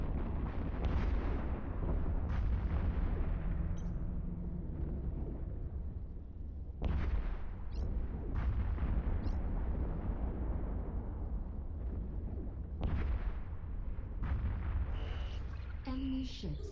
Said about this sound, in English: Just nothing quite like watching all the explosions happen.